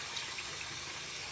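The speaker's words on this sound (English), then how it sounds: "I'm gonna fill this bin with the cold water" Cold tap water runs into a bin in a kitchen, a steady, even rush of filling water that stays at a constant level throughout with no voices.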